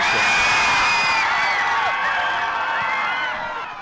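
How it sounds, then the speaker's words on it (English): Spectators cheer loudly at the close of a Skyline at Huron boys soccer match, with high whoops and shouts layered over a crowd roar that slowly fades. "They had some folks cheering on the end"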